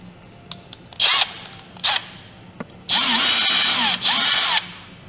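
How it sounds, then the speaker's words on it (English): A power screwdriver with a bit attachment removes screws from a graphics card, giving several short whirring bursts followed by two long sustained runs, close and loud. "You need to unscrew these two screws here. To unscrew these screws, you will need a attachment like that."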